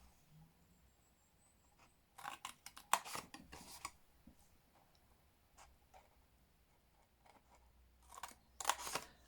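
Sharp snipping and rustling bursts from scissors cutting floral patterned designer paper along score lines for a lidded lipstick box, close and clustered in two short runs with quiet pauses between.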